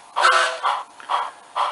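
Short whistle from a TCS WOW sound decoder in a model steam locomotive, sounding as four brief hoots in a quick uneven row, clear and close with no talking.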